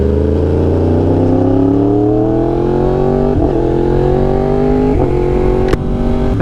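A 2020 Yamaha R1 motorcycle engine running loud and close, its steady harmonic drone rising gradually in pitch as it revs, with a few sharp blips and clicks near the end.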